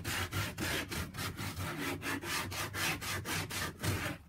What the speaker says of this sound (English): Using the bow sander to smooth it out a little bit.